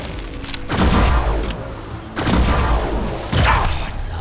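Tank shot and charge attack in the video game Mutant Year Zero: heavy booming impacts with rumbling tails, three loud bursts spaced about a second apart, dense and close, with a voice faintly underneath.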